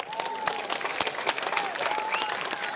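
Crowd applause at a Balinese temple performance, scattered sharp claps over a steady bed of clapping, moderately loud with a thin whistle-like tone drifting through.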